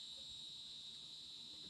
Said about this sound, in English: look for whatever giant cicada bug is in my